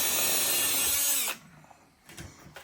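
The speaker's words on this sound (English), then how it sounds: "So you got 4 holes to drill here." A power drill whines loudly for just over a second drilling a hole on a Polaris for an exhaust install, then cuts off, followed by a couple of faint knocks.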